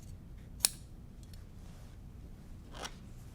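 Scissors trimming quilt fabric: two crisp snips, the first sharp and distinct, the second softer a couple of seconds later, against a quiet background.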